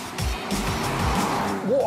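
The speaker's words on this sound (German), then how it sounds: "Und wie schlägt sich der alte A8 ohne Allradlenkung in schnellen, eng gefahrenen Kurven?" Old Audi A8 without all-wheel steering taken fast through tight corners, engine droning steadily with a rising tire squeal toward the end.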